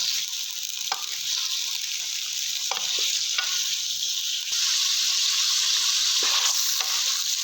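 Mutton sizzles steadily while being roasted in a kadhai, with occasional scrapes and knocks of a stirring spoon over a continuous, close hiss and no talking.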